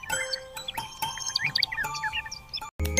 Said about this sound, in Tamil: ஒரு அழகான பசுமையான கிராமத்துல குஞ்சுன்னு ஒரு சின்ன குருவி வாழ்ந்துச்சு.